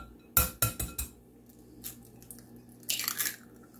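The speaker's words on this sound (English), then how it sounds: "Thing you're going to do is crack a couple of eggs." A couple of eggs cracked into a bowl of stuffed pepper filling with celery: several sharp close taps and clicks in quick succession, a softer knock, then a brief wet crackling splat, quiet and without talk.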